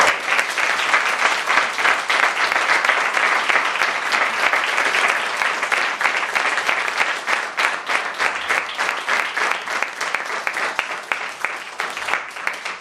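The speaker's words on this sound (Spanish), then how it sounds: "Por favor, un aplauso." A large audience at a Falles exaltation ceremony applauds steadily, dense clapping at a constant loud level throughout with no pauses.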